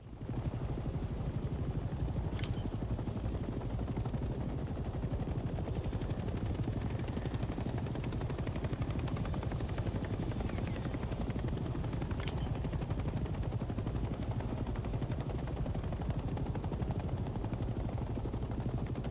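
A helicopter flying in the Hell Let Loose Vietnam video game gives a continuous rhythmic rotor thump and engine drone, steady and sustained at a constant level with no talking.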